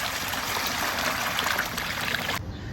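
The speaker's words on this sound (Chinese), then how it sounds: "加点水洗一下" Running water splashes steadily while a large beef stomach is rinsed, a close, continuous hiss and patter that cuts off sharply near the end.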